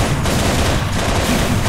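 Hostile gunfire in Halo Reach, a loud, dense rattle of rapid shots filling a brief moment without pause.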